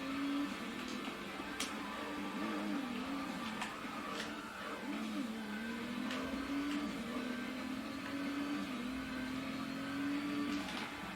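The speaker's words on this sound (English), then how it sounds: "Oh man, this car is really terrible drifting." An American drift car's engine whines steadily in a racing game, its pitch wavering up and down as it slides along a mountain pass, with faint clicks and knocks scattered over the continuous drone.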